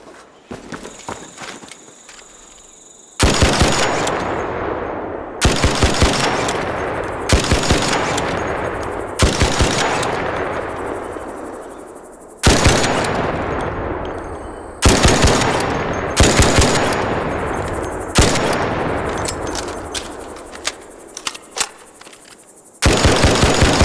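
Bettina gun fitted with a muzzle brake firing in a video game, heard as repeated sharp bursts of rapid automatic fire separated by short pauses, loud and close with ringing tails, with no talk over it.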